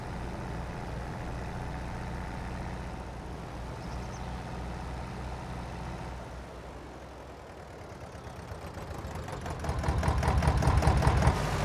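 Tractor engine in Farming Simulator 22 drones steadily at a low, even pitch while driving, then grows louder and rougher toward the end as it works harder.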